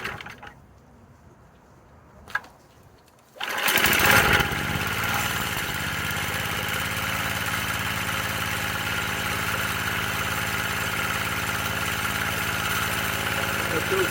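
A Manco mini bike's small engine, started for the first time in two years, catches after a few quiet seconds and a brief click, then runs steadily at a loud, close idle until the end.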